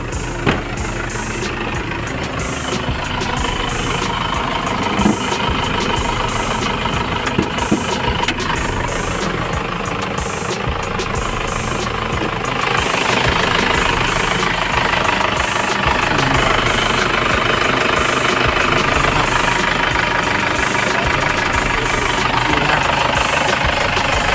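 A 2.5-litre turbo diesel engine in a used Isuzu pickup truck idles steadily up close, with a rattling, knocking clatter and constant vibration, growing slightly louder partway through.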